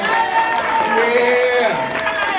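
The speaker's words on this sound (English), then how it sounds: "Let's give Veronica a round of applause." A church congregation applauding and cheering for a preacher, a steady loud wash of crowd noise with voices calling out over it, sustained throughout.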